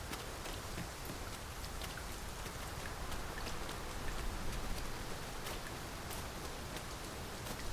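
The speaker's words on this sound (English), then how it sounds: "Tis raining most heavily." Heavy rain pouring steadily in the fantasy video game Dragon's Dogma 2, a dense, even hiss of drops with no voices and no break throughout.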